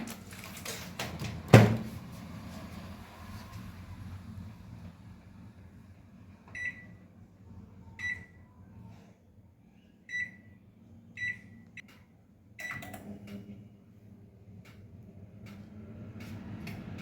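An electric oven baking a custard cake at 180 degrees hums steadily and quietly, opening with a sharp clunk, then giving a run of short, evenly spaced beeps partway through before the hum carries on.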